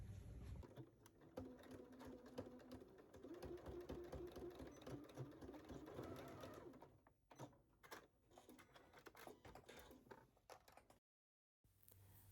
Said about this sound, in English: We're going to sew this at 5/8 at our sewing machine and then trim it.